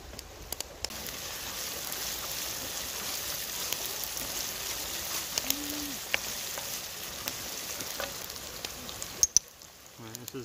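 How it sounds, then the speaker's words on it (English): A spiced curry base with rabbit and wood pigeon sautés in a pan, giving a steady soft sizzle throughout with occasional faint clinks, fairly quiet and alone. "Just gonna let them saute down a bit more."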